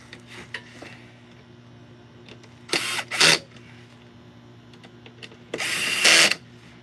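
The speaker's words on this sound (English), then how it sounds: "Low setting on the drill there. Get it snug." A power drill on a low setting snugging car lug nuts during a tire rotation, three short whirring bursts, the last one longest, close and fairly loud against a quiet garage hum.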